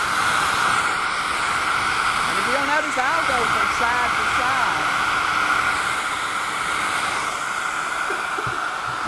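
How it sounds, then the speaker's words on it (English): A blow dryer roars steadily and loudly throughout, a constant close rushing hiss, with a person talking quietly beneath it. "keep that blow dryer moving"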